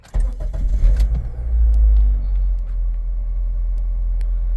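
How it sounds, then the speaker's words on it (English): A 2006–2011 Honda Civic engine cranks briefly and catches, then settles into a steady low idle rumble close by, with a light jingle of keys at the start. "And now our car should start up."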